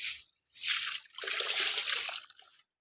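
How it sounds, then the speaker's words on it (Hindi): Water splashes and sweeps across a courtyard floor being washed, two bursts of rushing, hissing flow separated by a short pause, close and fairly loud. "मैंने अभी अच्छी तरह से पानी के साथ फर्श को वॉश कर लिया।"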